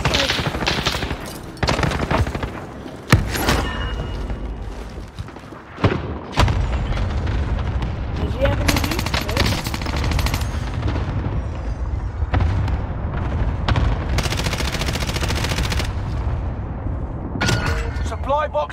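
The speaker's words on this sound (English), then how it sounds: "Enemy precision airstrike." Sustained gunfire and heavy explosions from a precision airstrike in the Warzone battle royale video game, with dense automatic bursts and booming blasts nearly continuous throughout, and occasional in-game voices underneath.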